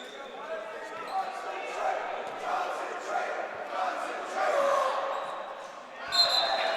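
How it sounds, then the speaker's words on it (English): A crowd at a varsity high school basketball game against Rabun Gap-Nacoochee School murmurs and rises into a cheer after a missed free throw, the gym noise steady with a swell midway and a commentator talking over it. "As they'll miss the first free throw, much to the crowd's delight."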